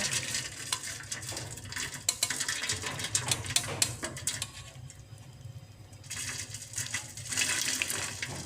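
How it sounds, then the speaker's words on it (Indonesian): Boiled ginger for sarabba is drained from the pot and poured into a larger container: splashing water and clattering cookware, busy at first, easing off partway, then picking up again near the end. "kita akan angkat dan tiriskan jahenya ke tempat atau wadah yang lebih besar"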